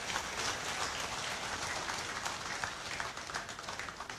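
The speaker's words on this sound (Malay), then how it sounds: "Kita beri tepukan." Applause from the audience at a political community gathering in Penampang, Sabah: even, sustained clapping from a fairly distant crowd, heard alone with no voices.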